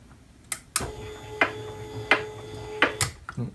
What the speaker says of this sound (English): Oops, it's making a bumping noise.